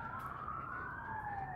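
An ambulance siren passes at a distance: a steady, slowly sweeping wail that is faint over low background rumble, with no voices.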